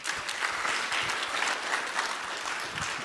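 Audience applause from a crowd at a seminar, a dense, steady patter of many hands clapping throughout, moderately close and without talk.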